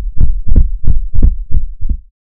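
A loud, pounding heartbeat sound effect in a children's read-aloud story gives six steady, deep thumps in an even rhythm, then stops.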